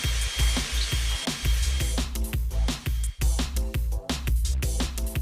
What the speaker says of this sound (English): Switch to a 1/2 inch bit and widen the hole.